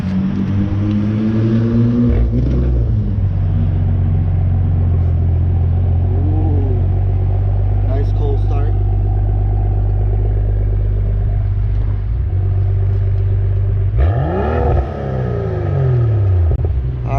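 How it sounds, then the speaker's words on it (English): A BMW F10 M535i cold start: a loud, close deep engine rumble holds a steady high idle with a couple of revs rising and falling, continuous with no talking. "We're gonna give you a little cold start with the M535i"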